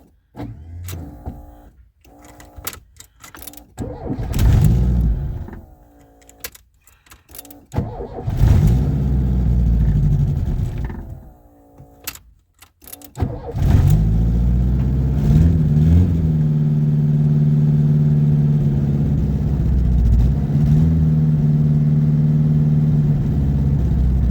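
An old Lancia car engine cranks in several short bursts with pauses between, then catches and settles into a steady, loud idle that runs on to the end.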